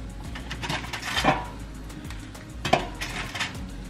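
Sausage goes into a pan during breakfast sandwich meal prep, giving a couple of sharp clinks and clatters of metal cookware over a low, steady kitchen background with no talking.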